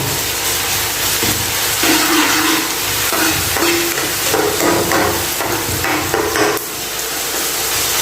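Onions stirred with garlic-ginger paste fry steadily in a pan, a loud, continuous sizzle broken by the scrape and clatter of a spoon stirring close by.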